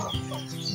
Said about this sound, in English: those are all pure local chickens